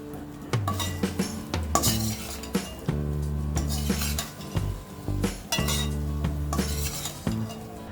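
A spoon stirs fresh green coriander through masala baby potatoes in a metal pan, with repeated clinks and scrapes of utensil against metal in an uneven rhythm. Faint sizzling sits underneath, close and clear.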